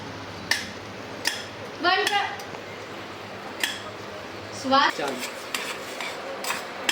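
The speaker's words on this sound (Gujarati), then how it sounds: "ગોળ મિક્સ થઈ જાય ત્યાં સુધી હલાવવાનું." Jaggery stirred into a hot pan for fada lapsi: a spoon clinks and scrapes against the metal in a few short bursts, with soft kitchen clatter between them and someone talking underneath.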